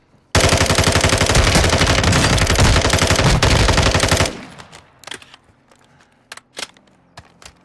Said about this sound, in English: Got a sniper shooting at you as well.